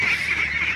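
Ducklings raised for egg laying call out in a close, continuous honking chorus for under a second, with no talk over it.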